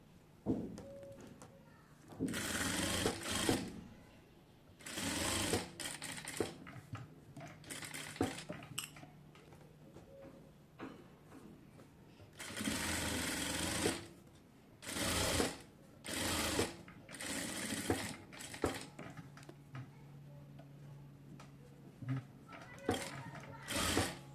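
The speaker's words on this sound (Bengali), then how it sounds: "উল্টানোর পর হচ্ছে এইখান দিয়ে হচ্ছে আমি একটি চাপ সেলাই দিয়ে দেব" A sewing machine top-stitches a child's baby dress in repeated bursts of rapid mechanical chatter, stopping and starting several times with quiet pauses between runs.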